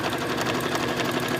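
A sewing machine chain stitches quilting on a boxy bag, a steady, loud, continuous whir with no pauses.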